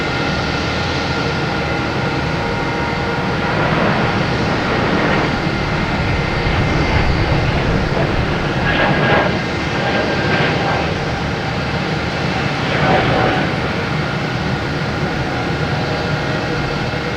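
An Air Canada airliner rolls down the runway at Boston Logan on takeoff for Toronto, a broad loud jet roar that swells and surges in waves, no talk over it.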